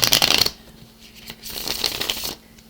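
Tarot cards riffle and slap together in two quick close-up shuffling bursts, with a short quiet gap between them.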